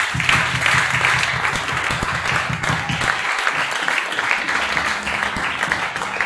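A congregation at a Tuesday church service applauds steadily and loudly, a dense wash of many hands clapping continuously throughout.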